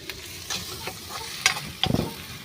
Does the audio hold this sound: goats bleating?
no